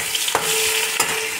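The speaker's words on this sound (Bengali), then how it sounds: "আঁচটা দেখো কম আঁচেই আমি ভাজি সব কিছু, যাতে পুড়ে না যায়।" Chopped ginger frying over low heat for sago khichuri makes a soft, continuous sizzle with two sharp stirring scrapes cutting through it, close and clear with no voices.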